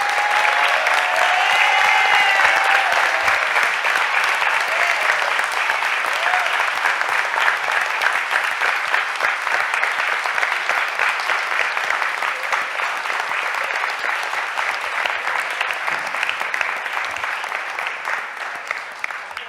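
A room of standing people gives the Young Flames a big round of applause at a council meeting, dense sustained clapping throughout, loud and close, slowly thinning toward the end with no voices over it.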